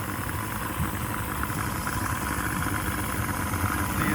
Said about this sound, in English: Kind of idling high now, even though it's back to neutral.